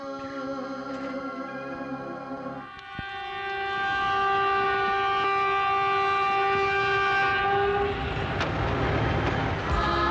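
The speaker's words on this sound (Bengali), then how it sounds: "দাদা ট্রেন নিশ্চয়ই এসে গেছে।" A train pulling into a station, its long tonal horn blaring over rumbling wagons, the rolling noise building and staying loud toward the end.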